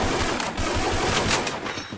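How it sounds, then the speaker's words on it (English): Gunfire rings out in a Free Fire pro league battle royale match, with rapid automatic shots cracking in quick succession at fairly close range over a dense background. "They can hear the gunshots"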